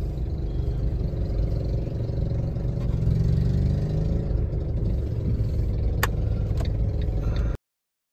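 A vehicle engine idles steadily and loudly, a continuous low rumble with light clatter and a couple of sharp clicks near the end, with no talk.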